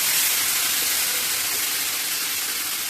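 Chicken pieces dropped all at once into hot oil tinted with chili powder, giving a loud, steady broadband sizzle that holds for the whole stretch and eases only slightly toward the end, with no talking.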